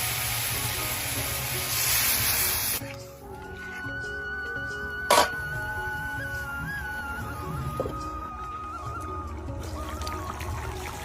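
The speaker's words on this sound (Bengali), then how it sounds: "মশলার সাথে আলুটা দিয়ে অনেক সময় কষিয়ে নিয়েছি এখন আমি জল দিয়ে দেবো" Water poured into a pan of potatoes frying in spice paste, a loud hissing sizzle for a few seconds that settles into a steady softer bubbling simmer with a brief clink.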